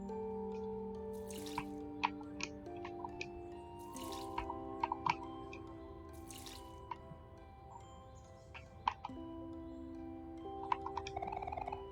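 Water droplets dripping while plants are watered in the video game OMORI, sounding as a series of short, bright plinks scattered over a steady bed of layered game music with sustained tones.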